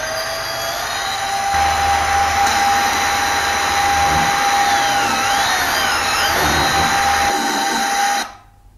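A metal drill bit bores into a wooden plank, a steady loud high whine with a low grinding rumble as it cuts, spinning down and fading at the end; no voices.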